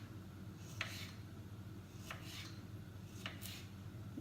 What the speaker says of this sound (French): découper mes courgettes.